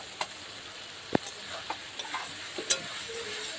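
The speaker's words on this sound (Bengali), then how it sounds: "এখন আমি দিয়ে দিচ্ছি ভেজে রাখা চিংড়ি মাছগুলো" Fried prawns tipped into a hot frying pan and stirred, giving a faint steady sizzle broken by a few sharp clicks and scrapes of the spoon against the pan.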